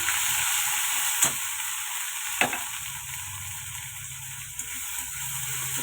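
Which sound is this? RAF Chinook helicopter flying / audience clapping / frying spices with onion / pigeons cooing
frying spices with onion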